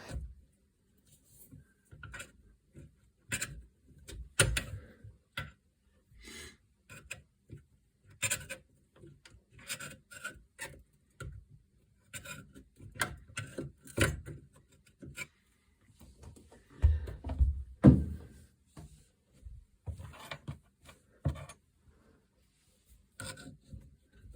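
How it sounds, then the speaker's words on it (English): A flathead screwdriver prying at a rubber sink drain gasket in a bathroom sink, irregular faint scrapes, taps and rubbing clicks close up, growing busier and louder toward the end, with no talking. "I'm just going to use a flathead screwdriver that I have right next to me to kind of pry it down a little bit and get it loose"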